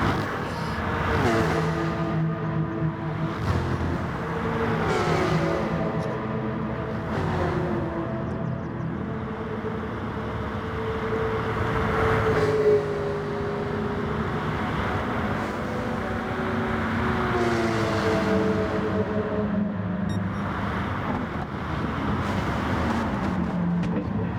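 Racing cars including a Porsche and Volkswagens in Gran Turismo, engines droning and shifting pitch steadily throughout as several cars run close together, with rising and falling revs of passing cars.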